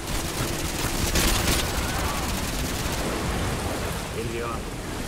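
Gunfire in the Russian-language version of Call of Duty: Modern Warfare 2, a dense, continuous rattle of shots mixed with rain-like noise over about five seconds, with an in-game voice faintly underneath.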